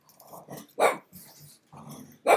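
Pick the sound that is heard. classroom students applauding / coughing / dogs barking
dogs barking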